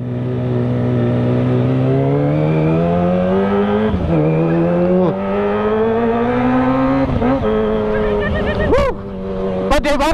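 A Kawasaki ZX-25R motorcycle engine holds a loud, close, high-pitched drone that climbs steadily, dips briefly a few times, then rises into sharp revving bursts near the end.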